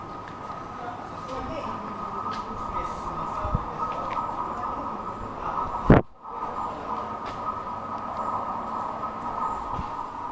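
A train's steady droning hum fills the space at Pohjois-Haaga railway station, interrupted once by a sharp thump and a brief dip, then the even rumble resumes.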